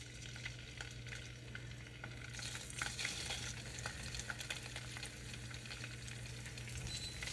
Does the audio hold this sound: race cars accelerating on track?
no